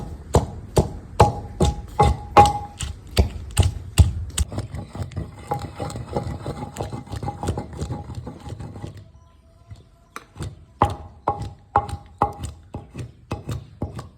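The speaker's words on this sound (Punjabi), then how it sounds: "ਚਿਬੜਾਂ ਦੀ ਵਧੀਆ ਤਰੀਕੇ ਨਾਲ ਕਟਾਈ ਕਰਾਂਗੇ" Chibber, small wild melons, being cut for kunde chutney, a rapid steady run of sharp close chopping strikes on a hard surface, pausing briefly before resuming at the same brisk rhythm.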